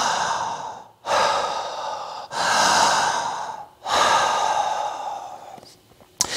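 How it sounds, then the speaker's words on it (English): Conscious connected breathing in which each inhale flows straight into an exhale with no pause, heard as four long, loud, close airy breaths in a continuous rhythm, with no talking. "There's the exhale without any pause, the inhale starts."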